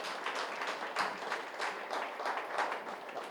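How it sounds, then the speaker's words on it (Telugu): An audience at the opening of a pyramid meditation hall in Bommuru applauds, a loud, dense, steady clapping that fills the space close by throughout. "గట్టిగా తప్పట్లు కొడదామండి."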